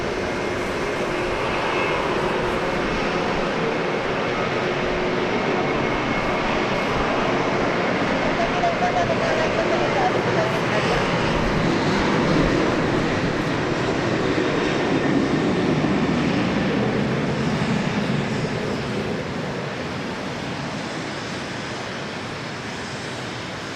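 An airplane at Dallas Love Field gives a loud, sustained jet roar that holds steady for most of the stretch and slowly fades toward the end, with faint radio chatter and talk underneath.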